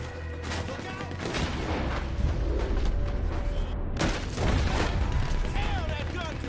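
Rapid Gatling gun bursts from an in-game shootout in Red Dead Redemption 2, loud and dense, with crackling shots and echoes sustained across the clip, a brief gap before another heavy volley.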